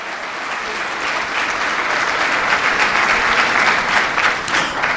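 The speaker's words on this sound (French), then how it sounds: "que je vous demande d'applaudir très chaudement" An audience at a school club's accountability presentation for a lycée in Pétionville applauds warmly, loud, dense, sustained clapping that swells slightly midway and carries on steadily with no talk.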